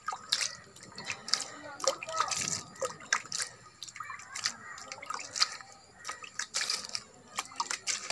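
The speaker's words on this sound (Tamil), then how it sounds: "நம்ம இப்போ சாணி கொஞ்சம் தெளிக்கணும்ப்பா" Cow dung slurry is sprinkled onto a compost layer, giving a run of wet splashes and drips that patter irregularly near by, while a voice talks at times.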